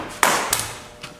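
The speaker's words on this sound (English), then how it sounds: "The Halligan is used to tap on the K-tool" A Halligan bar strikes a K-tool set on a door lock cylinder, giving three sharp metallic taps, the first loudest and the later ones lighter, each followed by a short ringing decay.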